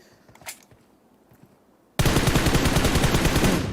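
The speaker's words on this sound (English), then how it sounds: "Matoy at the off angle trying to support, taking 1 single fire shots at Tixie." In a PUBG Mobile competitive match, a faint shot or two is followed by loud, sustained, rapid automatic gunfire.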